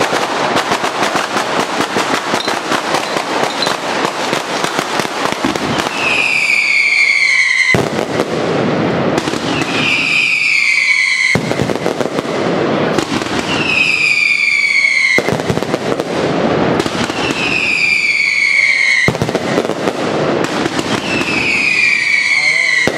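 Relentless barrage of mascletà firecrackers at a Las Fallas display in Plaza Aras de Alpuente, dense loud bangs in sustained bursts broken by brief whistling rockets, with a crowd talking underneath.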